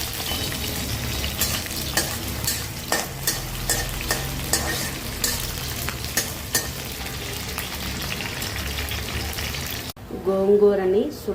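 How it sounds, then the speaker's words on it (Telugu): Green chillies fry in a spoonful of oil in a pan, giving a loud, continuous sizzle with stirring scrapes throughout. A voice comes in briefly near the end. "పెనం తీసుకొని నేను ఆయిల్, ఒక స్పూన్ ఆయిల్ యాడ్ చేశానండి. ఇప్పుడు మనం పచ్చిమిర్చి యాడ్ చేద్దాము."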